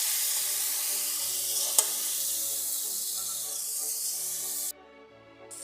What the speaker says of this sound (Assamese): নিমখ, হালধি ভালকৈ এনেকৈ মিলাই দিব লাগে।